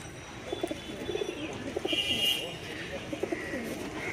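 Pigeons cooing nearby in short repeated throaty bursts at a slow, uneven rhythm over a background murmur, with a brief higher whistle in between.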